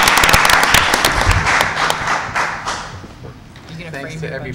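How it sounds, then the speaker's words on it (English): Applause from attendees at a board of education meeting, dense clapping that starts strong and fades over a few seconds, with talk mixed in beneath. "Thanks to everybody who applauded."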